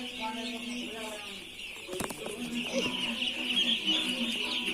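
Chickens in a newly built poultry shed cluck and call nearby in short repeated bursts, over a constant background hum, with a brief knock partway through.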